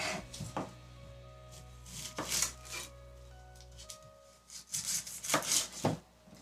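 Vegetables for pepper steak are cut with a knife on a cutting board in a series of irregular scraping chops over a steady low kitchen hum.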